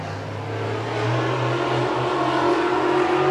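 Modified race cars roar around the track after the green flag as a dense, steady engine drone that builds slightly in loudness. The cars sound fairly distant, and there is no talking over them.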